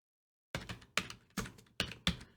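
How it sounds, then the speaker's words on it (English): Keys tapped on a PC computer keyboard, five crisp close clicks spaced at an uneven rhythm after a moment of silence. "obviously I can type like that a message using the keyboard on my PC"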